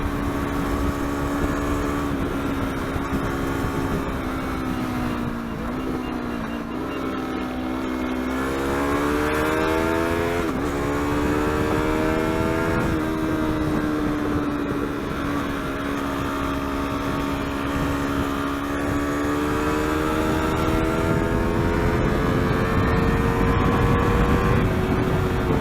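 A Yamaha R3 motorcycle engine in a friendly race against a 2017 KTM Duke 390, loud and close, climbing in pitch through the revs with several upshifts that drop the tone before it climbs again, with constant wind roar.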